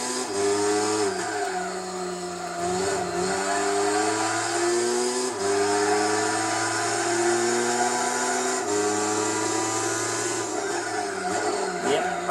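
Mazda RX-7 and RX-8 racing side by side in the Gran Turismo 4 Tsukuba 9 Hour Endurance Race, a steady high-pitched rotary engine whine rising through the gears, with brief dips at each shift.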